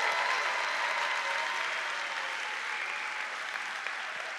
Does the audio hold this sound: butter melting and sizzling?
no